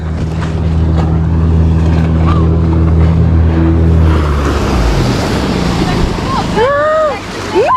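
Instructors' motorboat passes close by off the Breton coast near Morgat, its engine drone and churned-up waves sounding loud and steady amid wind buffeting the microphone, with a few birdlike chirps near the end.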